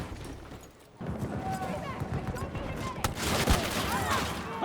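Gunfire in Battlefield 2042 gameplay: a quieter stretch, then sustained bursts of automatic fire and rapid shots that grow louder and denser toward the end.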